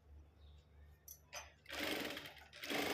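A sewing machine stitching folded fabric edges for decorative latkans, starting with a few short bursts and then running in a loud, continuous close whir.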